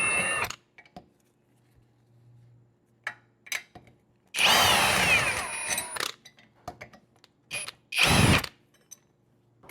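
An impact wrench unbolts the bottom shock bolt on a Jeep JK, letting out two loud hammering bursts, a longer one near the middle and a shorter one near the end, separated by quiet clinks and handling noises.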